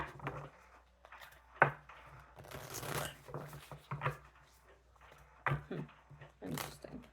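Tarot cards are shuffled in several short, papery bursts close by, separated by quiet gaps, with faint murmuring underneath.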